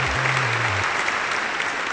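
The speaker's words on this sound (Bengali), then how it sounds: "জোরে হাততালি" A group claps loudly and continuously for the whole short stretch, with a low hum running underneath.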